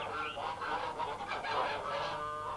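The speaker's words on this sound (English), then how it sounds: "Well, I'd better be taking these geese back to the park" Several geese honk in a busy, overlapping flock call that runs steadily from start to finish, fairly close and moderately loud.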